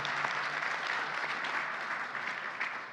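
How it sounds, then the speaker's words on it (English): Audience applauding a panel at the close of a discussion, a continuous, even roar of many hands clapping, fairly loud and unbroken for the whole stretch. "we can have a round of applause for"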